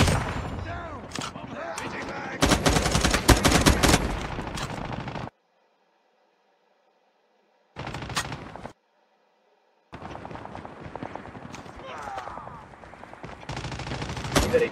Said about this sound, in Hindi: लीजिए फायरिंग चालू